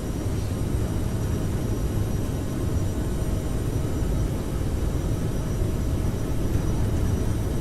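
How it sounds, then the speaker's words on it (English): CRJ-700 jet engines at takeoff power in Microsoft Flight Simulator: a loud, steady roar heard close and continuous, with no voices over it. "Toga. Takeoff power set."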